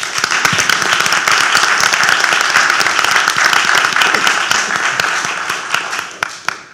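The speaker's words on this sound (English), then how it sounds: "How about a round of applause for these people?" A room of people applauds at a city commission meeting. The loud, close clapping includes some sharp individual claps, stays steady, and then thins out and tapers off toward the end.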